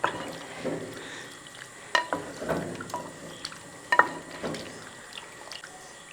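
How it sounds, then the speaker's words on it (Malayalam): Kunji pathal, a Kerala-style dish, being stirred and mixed in a pan: soft wet squishing and liquid sloshing with occasional sharp clinks of a spoon against the pan, close and steady. "ഇതങ്ങോട്ട് ഇളക്കി നല്ലപോലെ ഒന്ന് മിക്സ് ചെയ്തെടുക്കുക"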